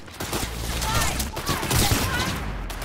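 Rapid gunfire bursts in Cyberpunk 2077 rattle on continuously and loud, a dense barrage of shots with game effects around them.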